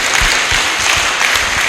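Applause from an audience at a religious gathering, a continuous dense clapping throughout, fairly loud and close, with no speech over it.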